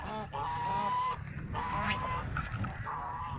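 A goose honks repeatedly, loud nasal calls coming in a few bursts over outdoor background noise.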